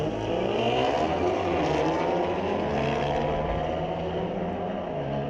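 A Volkswagen Golf R and an Audi run a street legal drag race at a raceway. Engines roar loud and continuous, a sustained, revving drone with no break and no voices.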